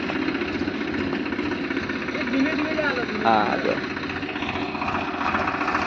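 Tractor engine chugging steadily while the tractor sits stuck in mud, a continuous low rumbling drone close by, with people talking over it.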